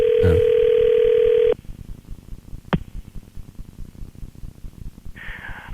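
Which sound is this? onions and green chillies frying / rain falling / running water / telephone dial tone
telephone dial tone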